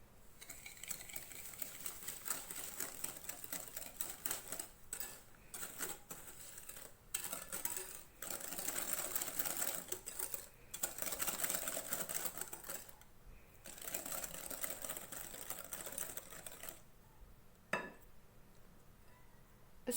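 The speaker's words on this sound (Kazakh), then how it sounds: "Енді біз жаңағы жұмыртқа мен қантымызды венчикпен араластырып аламыз." A whisk beats eggs and sugar in a bowl for banana cake batter, giving quiet, rapid, rhythmic metallic clinking and scraping in bursts with brief pauses between them.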